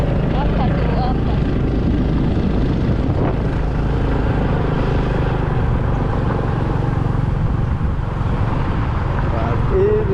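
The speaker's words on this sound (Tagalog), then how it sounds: "Kasi apat kami nakasakay dito sa motor mga idol." Motorcycle carrying four riders, its engine droning loud and steady with wind rush throughout, while people talk over the noise.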